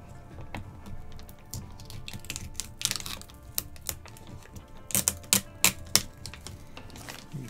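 Plastic packaging of a Treasure X Minecraft Nether Portal toy being peeled open, with clicky crinkling bursts and sharp tearing snaps growing louder and clustering toward the end, close and without talk.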